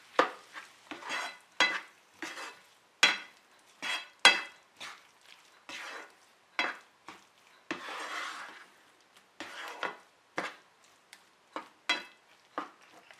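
Chicken coated in coriander powder is stirred in a pan for a chicken noodle soup, with a series of sharp, irregular scraping strokes against the pan and quiet gaps between them; no one speaks.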